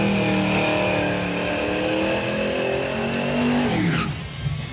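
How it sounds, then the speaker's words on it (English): A 2005 Ford Mustang at a drag strip does a burnout, its engine screaming loud and sustained with rising pitch and tire noise, then abruptly cutting off. "Let's watch his burnout."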